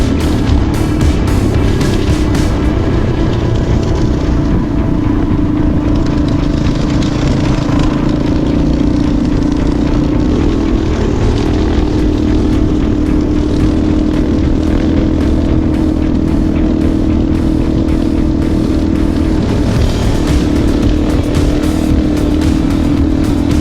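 Motorcycle, a new bike, ridden across deep sand near San Felipe, with a loud steady engine drone that holds throughout, sometimes swelling slightly as the rider works through the sand, with no talk.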